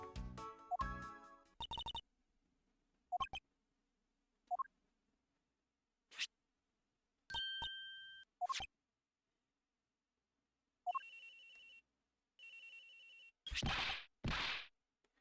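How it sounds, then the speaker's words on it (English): A phone rings in the Ace Attorney Investigations video game, with a series of electronic ringtone chirps and bursts, short clicks and tonal blips, separated by silence and growing louder toward the end. "This is my phone."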